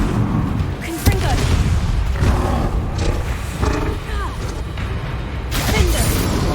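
Confringo fire-blast spell from Hogwarts Legacy, heard as a run of loud, roaring booms and crackling bursts in a chaotic combat mix, with several strikes spread over a few seconds.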